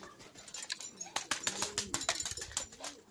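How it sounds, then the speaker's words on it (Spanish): Pigeons coo softly in a low, throaty warble, mixed with brief wing flaps and rustling nearby, moderately quiet throughout. "Mira, la paloma más bonita"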